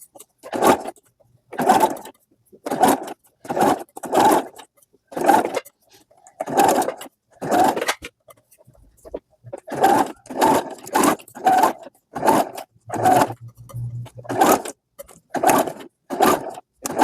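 Domestic sewing machine stitching a row of small ruffle pleats on a blouse, running in short bursts of about a second each with brief pauses between, close and clear with no talking.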